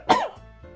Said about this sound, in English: Yeah, I gotta chill on the voice, guys. It's making me cough.